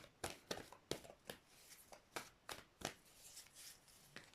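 Tarot cards shuffled and drawn in soft, quick riffles and flicks, about a dozen crisp close bursts in an irregular rhythm at low volume with no talk.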